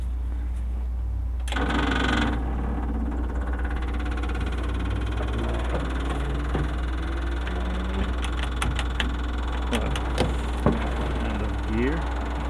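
The engine of an abandoned 1949 Willys CJ2A jeep running on its first drive after revival, a steady low mid-range engine drone with knocking and rattles.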